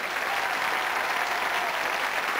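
A TV studio audience gives loud, sustained applause, a dense, even wash of many hands clapping together with no break and no talk over it.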